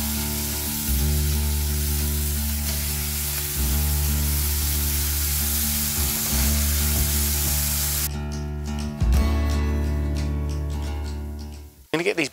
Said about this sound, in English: So we've just got them on that griddle side and a couple of minutes on each side, and then flip them over.